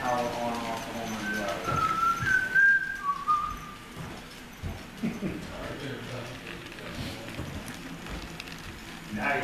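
Sierra Railway steam locomotives #3 and #32 at Black Diamond Lines sound brief, faint, distant whistle tones amid a rough background of outdoor noise and scattered knocks.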